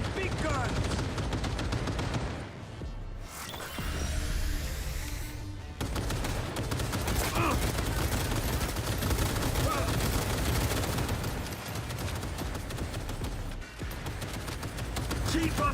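Heavy gunfire and artillery fire in Cyberpunk 2077, a dense, continuous barrage of rapid shots and booms that stays loud nearly throughout, with a brief lull midway and speech mixed in.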